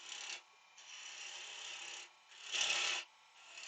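Timber is rasped away while a wooden carving is roughly shaped, heard as steady, close scraping strokes in long sustained passes with brief gaps between them and no talking.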